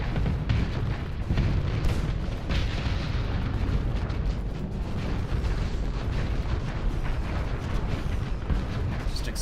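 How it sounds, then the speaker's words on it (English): A dense, continuous barrage of booming explosions and crackling bursts rolls on without pause through a fleet space battle in the game Starsector, loud and close. "Explosions everywhere."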